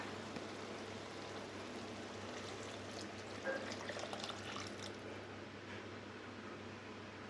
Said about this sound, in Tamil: இந்த ஸ்டேஜில் கரைச்சி வச்சுருக்கிற புளி தண்ணியை சேர்த்துடலாம்.